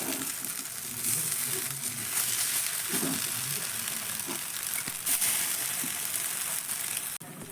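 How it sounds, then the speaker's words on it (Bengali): Suji and chira tiffin snacks frying in oil over a medium gas flame, giving a steady close-up sizzle with occasional soft stirring clicks and no voices. "আর এই টিফিনগুলো ভাজার জন্য গ্যাসের ফ্লেমটা অবশ্যই মিডিয়ামে রেখেই ভাজতে হবে"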